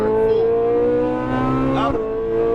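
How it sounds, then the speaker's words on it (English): A Lamborghini Huracan Performante pulls hard at full throttle on a track, its engine a loud, sustained, close roar with a steady pitch and a brief shift-like break near the end. "Eyes to the end of the straight, picking back up on power. Go for it. Full."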